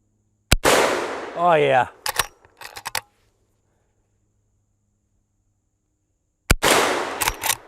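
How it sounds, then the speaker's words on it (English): A .44 Magnum lever-action rifle fires on an outdoor range: two sharp, loud, close reports about six seconds apart, each followed by a ringing tail. A short spoken remark and faint metallic clicks of the action come between the shots. "Man, that .44 Mag."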